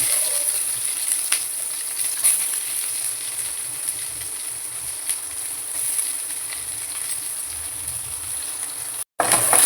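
Mustard seeds spluttering in hot oil for okra sambar, a steady close sizzle with scattered sharp pops and crackles running for several seconds before cutting off abruptly near the end, no talk over it.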